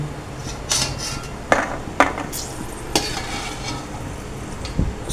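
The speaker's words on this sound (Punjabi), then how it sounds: "ਘਿਓ ਚ ਭੁੰਨੇ ਜਾ ਰਹੇ ਨੇ ਜੀ ਡਰਾਈ ਫਰੂਟ" Dry fruits roasting in ghee in a pan sizzle softly while a metal spatula stirs and scrapes, making several sharp clanks against the pan at uneven intervals, close by.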